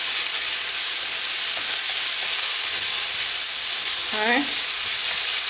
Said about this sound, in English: I'm going to put the shrimp a little more on the heat.